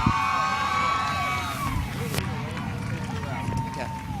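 Speedway grandstand crowd at Midvale Speedway cheering for race car driver Waylon Orr of the number 28 car, a steady roar of voices and whoops sustained throughout, with some speech mixed into the din.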